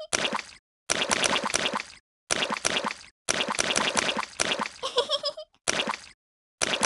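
Repeated splashing through puddles in a Peppa Pig video game, heard as loud close bursts of sloshing water, mostly in groups with brief pauses, one burst ending in a bright trickling patter.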